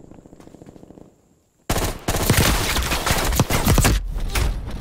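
An M16 rifle in Call of Duty: Black Ops Cold War fires loud rapid bursts of close gunshots after a quiet spell of faint rhythmic footsteps.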